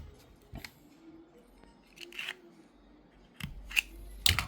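Scissors cutting tendon guide material, several quiet, sharp snips spaced irregularly, close up with low background hiss.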